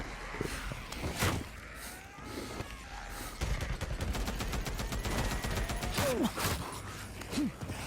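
Gunfire in the video game Days Gone during a horde assault at Belknap: rapid bursts of sharp shots, clustered and repeated, loud and close, with faint growls and breathy creature sounds between them.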